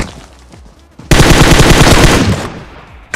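Loud, sustained automatic gunfire from a PUBG Mobile match rattles in a rapid burst for over a second, preceded and followed by quieter game ambience.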